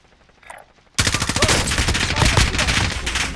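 Rapid automatic gunfire from a Call of Duty Warzone firefight bursts in loud and dense after a quiet second, with fast repeated shots continuing throughout and a voice briefly heard underneath.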